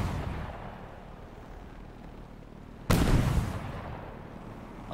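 Missiles in Halo Infinite fire and burst in a single loud blast about midway, rising sharply over steady low game rumble and then tailing off.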